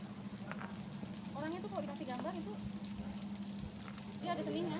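Garlic, shallots and red bird's eye chili stir-frying in a little oil, a steady close sizzle throughout with a voice talking over it.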